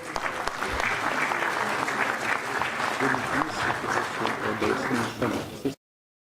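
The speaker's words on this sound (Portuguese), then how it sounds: "Uma salva de palmas." An audience at an awards ceremony closing the social year bursts into sustained applause, dense clapping throughout that stops abruptly near the end, with a voice briefly heard over it.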